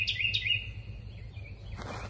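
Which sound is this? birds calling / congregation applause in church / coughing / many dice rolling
birds calling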